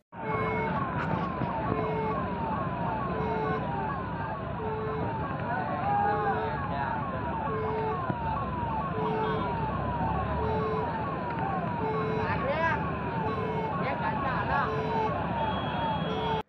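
An ambulance siren repeats its rising-and-falling wail throughout, stuck in a traffic jam on Paithan road amid pipeline work, heard through a constant rumble of idling traffic and general crowd noise, with voices talking over it.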